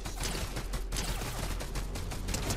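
Dense, continuous gunfire from a Fortnite Zero Build squads match, with rapid overlapping shots packed into a loud, unbroken barrage and no voices over it.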